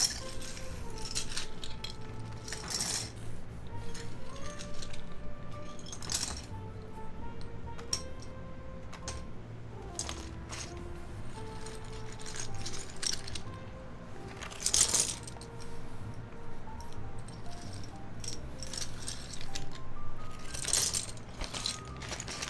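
Loose keyboard keycaps being gathered up during a Keycult No. 1 build, giving a steady run of small plastic clicks, clinks and taps, close and fairly busy, with brief louder clatters now and then.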